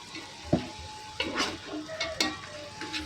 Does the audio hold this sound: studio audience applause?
no